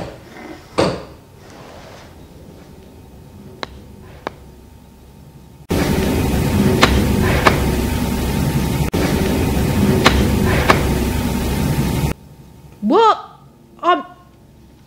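Knocks on a hard surface inside an old research station, a few sharp taps spaced apart in a quiet room, with a stretch of steady background hiss, while people talk softly between them.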